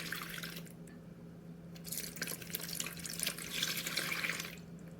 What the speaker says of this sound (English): In a large bowl, add 2 cups of whole milk.